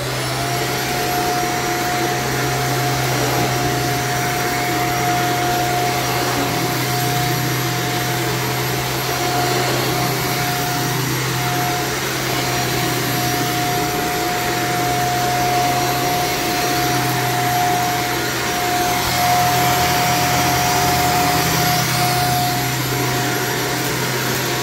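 Carpet cleaning machine running steadily on a heavily soiled carpet, a loud continuous vacuum-like roar with a constant motor whine that holds unbroken throughout.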